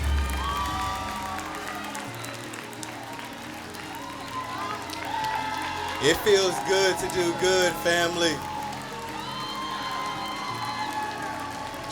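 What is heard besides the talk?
audience cheering for a woman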